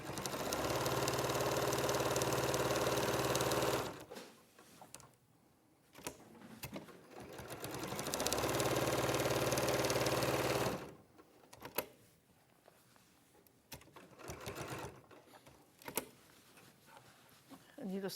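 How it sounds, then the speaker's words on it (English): A sewing machine stitching over 80/20 cotton-polyester wadding, running in two loud sustained bursts of rapid whirring, with quieter handling noises and a voice talking in the gaps between. "you're just sewing over the top roughly onto your drawn lines"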